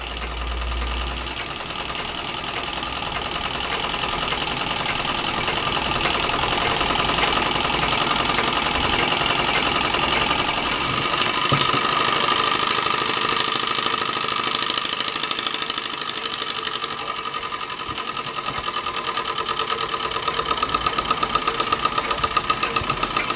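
A Märklin 4113/6 model donkey engine runs smoothly and steadily, a continuous close mechanical hum with a light knocking rhythm throughout, with no talking.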